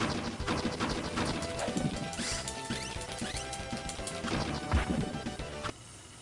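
Retro SNES Mighty Morphin Power Rangers beat-'em-up action with a park bench thrown and smashing, busy crashing and clanking game effects over looping music, a louder impact near the end.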